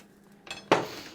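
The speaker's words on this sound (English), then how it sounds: "So I'm going to put them over on my plate over here." A spatula sliding fresh pancakes off a Ninja Foodi griddle onto a plate, a soft scrape and then a sharp clink of utensil on plate, close and brief in a quiet kitchen.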